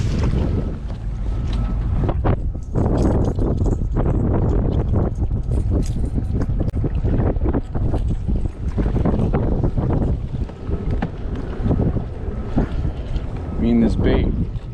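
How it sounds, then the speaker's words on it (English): Strong, gusty wind buffets the microphone on a local lake at Marine Creek, roaring almost continuously and close, with a person talking underneath. "it is pretty windy,"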